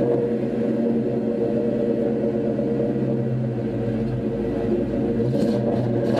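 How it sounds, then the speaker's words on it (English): Inside a DIY drift car, a worn-out bucket being restored, driving with the window open: a steady, loud low rumble of road and tire roar with engine drone, continuous throughout, no talking. "the tires are extremely loud"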